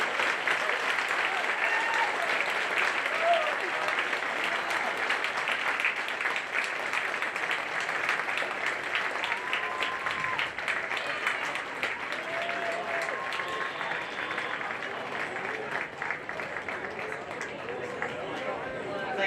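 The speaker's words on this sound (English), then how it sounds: "join me in giving our local heroes who work so hard to keep us safe a big round of applause" A school assembly crowd applauds at length for local heroes who keep the community safe, steady dense clapping with a murmur of voices underneath, loud and sustained throughout.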